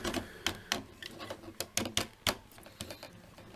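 A Transformers Soundwave figure being folded gives a run of sharp, close plastic ratchet clicks at an irregular rhythm, about a dozen snaps over a few seconds, with no talking.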